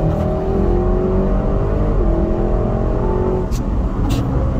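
Audi RS6 Sledgehammer accelerating hard through a turn on a wet and dry race track, its engine note loud, steady and close, carrying on continuously with no talk over it.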